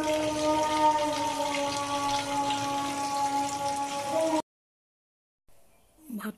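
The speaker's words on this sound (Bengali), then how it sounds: "পরিষ্কার করে ধুয়ে নিচ্ছি" Water streams steadily from a tap while food is washed clean, a close, continuous splashing flow that cuts off abruptly, followed by silence and a faint clatter.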